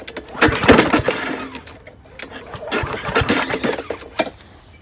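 A Honda GCV160 lawnmower engine runs with a scraping fault, a rough, steady mechanical drone with grinding scrapes and uneven knocks, heard up close and fairly loud.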